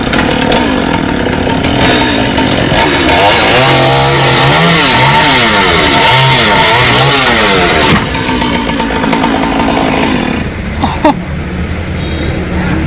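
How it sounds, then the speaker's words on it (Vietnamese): A chainsaw cuts branches of a 200-year-old Sộp tree, its loud, close engine roaring steadily and surging up and down in pitch as it bites into the wood, with occasional voices underneath. "lấy máy cưa khác để cứu cái máy cưa nhỏ ra"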